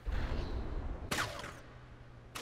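Fragmentation shells striking a craft in the From the Depths battle game, two sharp bursting impacts, the first heavier and longer, over a low rumbling background.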